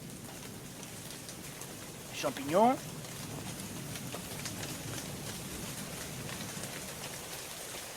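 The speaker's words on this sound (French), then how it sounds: "C'est le bruit, le petit bruit des clapotis comme ça." Rain falling at night with a steady soft patter throughout, a brief spoken phrase near the middle rising over the drops.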